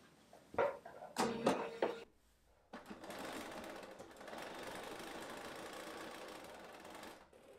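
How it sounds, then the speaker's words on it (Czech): Domestic sewing machine re-stitching a seam in stretchy fabric for underwear, a steady continuous whirring run of a few seconds, preceded by short bursts of handling and clicks. "A teď vlastně ten šev si ještě jednou prošiju"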